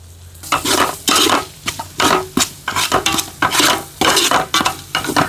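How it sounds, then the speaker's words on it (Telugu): Chicken cooked with turmeric, salt, chili, coriander powder, chicken masala and garam masala is stirred in a hot pan, with loud, rhythmic scraping strokes repeating every half second over a steady sizzle. "మొత్తం బాగా ఫ్రై అయిపోయింది."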